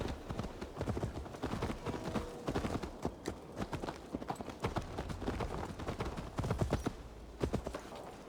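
Horse hooves clip-clopping at a steady walking rhythm in the video game Assassin's Creed Valhalla, fairly faint, with a quiet bed of ambient game sound underneath.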